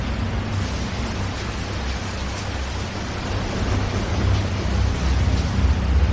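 Heavy rain pours down in a steady, dense roar with a deep rumbling undertone, building slightly louder toward the end.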